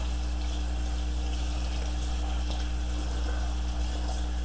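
Tap water runs steadily over a trumpet being rinsed of soap, a loud, continuous rushing and splashing with a constant low hum beneath and no pauses.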